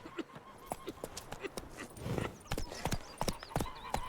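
Horse hooves galloping in The Witcher 3, quick close clip-clop beats in a rolling rhythm that grows busier and louder in the second half, with faint background rumble.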